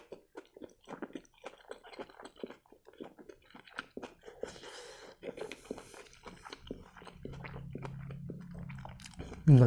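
Close, wet chewing and soft crunching of a turkey shawarma, in irregular bites and mouth sounds at low volume, with a hum rising later and a voice briefly present.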